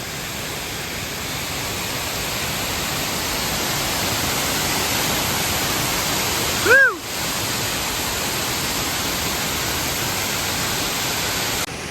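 The Tieton River rushes through a box canyon as a steady, full, hissing wash of water, broken once midway by a brief high chirp or whistle.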